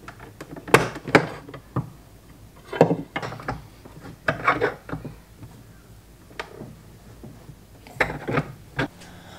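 Metal bolt turned back and forth to force spring coils onto a Superjet Blowsion handle pole, giving scattered bursts of creaking, ratcheting and rubbing clicks separated by short pauses, fairly close and moderately quiet.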